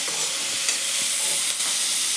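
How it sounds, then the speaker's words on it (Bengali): Vegetables with soy sauce fry and sizzle in a wok in a steady, continuous hiss, with faint stirring scrapes, close and fairly loud with no talking. "এই যে ভেজিটেবলটা ফ্রাই হয়ে যাচ্ছে"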